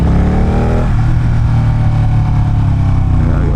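A motorcycle engine revs loudly and close during a downshift, a droning mid-pitched roar with a pitch drop near the start, then steady throaty running.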